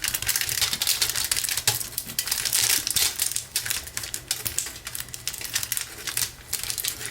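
Aluminum foil pressed into divots with a fingertip, giving dense, close crinkling and tapping crackles that come in quick uneven bursts.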